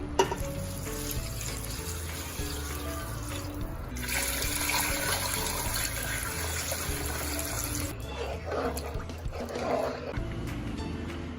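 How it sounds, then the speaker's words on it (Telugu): Three litres of water are poured into a pot of mutton haleem with ground spice powder, mint and coriander, a steady close gushing splash under sizzling, continuous with a few louder surges. "ఇప్పుడు దీనిలో 3 లీటర్ల నీళ్లు పోసుకోవాలి"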